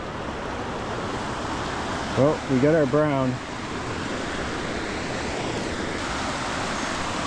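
A river flows in a steady, loud rush of water near a trout fishing spot, continuing throughout while someone briefly speaks over it.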